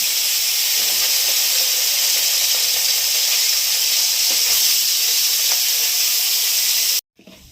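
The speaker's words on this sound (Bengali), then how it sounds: "মাছগুলো তেলে দিচ্ছি।" Desi khoira fish sizzle loudly in hot oil, a dense, continuous close-up hiss and crackle that cuts off abruptly near the end.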